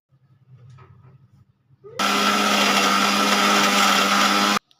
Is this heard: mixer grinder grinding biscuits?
yes